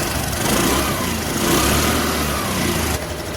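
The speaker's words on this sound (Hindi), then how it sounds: "भाई एक बार आपको एग्जॉस्ट एक्सीलेट करके दिखाता हूँ," A 2025 Suzuki Access 125 scooter with a rusted exhaust revs up close by, its mid-pitched engine note swelling under the throttle and then easing back toward idle, with no talking over it.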